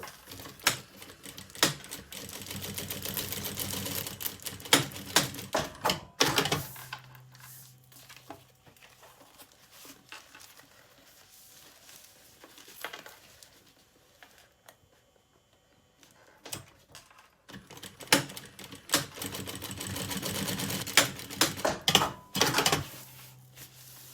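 A sewing machine runs a straight seam through the lining of a child's lunch bag in two long, fast-ticking stitching runs with a quieter pause between them.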